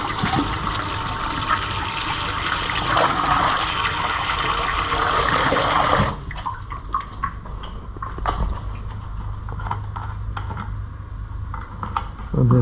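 Water sprays and splashes steadily while a car foam lance is rinsed during a wash of a Peugeot 206, a loud continuous gush for about six seconds, then quieter trickling and dripping with a few knocks.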